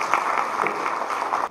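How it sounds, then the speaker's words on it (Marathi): An audience at a felicitation ceremony claps loudly for the supporting team, a dense steady patter of applause that carries on evenly before stopping abruptly. "त्या टीमसाठी सुद्धा एकदा जोरदार टाळ्या वाजवा."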